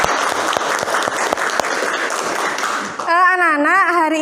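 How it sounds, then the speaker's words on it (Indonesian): Classroom applause from children and a teacher, a quick burst of claps lasting about three seconds, then cut off by a bright whistling or melodic tone. "Beri tepuk tangan untuk kita semua."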